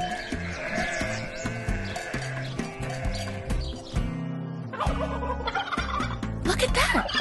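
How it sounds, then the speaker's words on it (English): Two turkeys walking on a farm hillside gobble in bursts over a busy mix of other farm animals, including sheep and goats bleating nearby, fairly close and continuous with no talk. "Two turkeys that are walking proudly."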